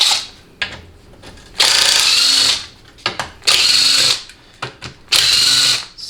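A power ratchet removes the 10mm pan bolts from a 1991–1996 4L80E automatic transmission, in three loud whirring bursts of about a second each, separated by quieter clicks and handling noise.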